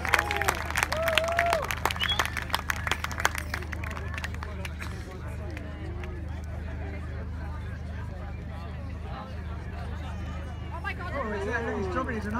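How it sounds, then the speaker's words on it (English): Outdoor applause breaks out for a paragliding acro show pilot, scattered claps over the first few seconds fading into crowd murmur, with a steady low hum and a voice speaking. "Give him a round of applause."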